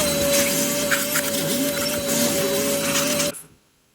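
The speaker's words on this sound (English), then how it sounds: "So it's gonna get loud with the vacuum" A vacuum roars loudly with a steady high whine as metal filings rattle through the nozzle, then it abruptly switches off.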